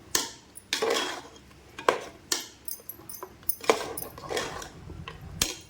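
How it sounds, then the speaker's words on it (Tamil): Coconut paste being stirred into mutton kuzhambu in a pot: repeated scraping and clattering strokes of a spoon against the pot, close and fairly loud, with no talking. "இப்போ தேங்காய் பேஸ்ட்டு குழம்பு எல்லாத்தையும் நல்லா கலக்கி விடுவோம்"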